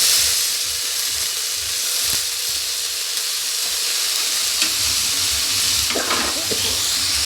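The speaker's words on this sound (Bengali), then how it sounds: "এবার দিয়ে দেবো এই সবজিগুলো এখানে কেটে রেখেছি আমি।" Carrots, beans, cabbage and peas stir-fry in a hot pan, a steady close sizzle running throughout with a few scraping stirs near the end and no talking.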